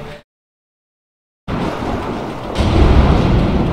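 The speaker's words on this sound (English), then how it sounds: "Let's time it with the thunder." Thunder in the video game A Way Out, a loud crack that rolls into steady rumbling after a brief silence and grows heavier, alone with no voices.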